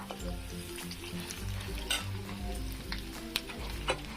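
Steady sizzling of finely chopped onion frying in hot oil, with occasional stirring clinks and sharp crackles over a low rumbling background.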